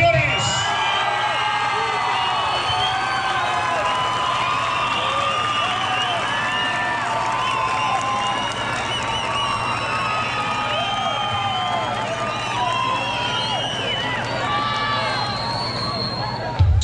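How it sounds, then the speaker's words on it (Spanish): Crowd at a Mexican jaripeo in Hidalgo applauding, cheering and whooping, a dense, sustained roar of many voices under an announcer talking over a loudspeaker. "El aplauso, señores."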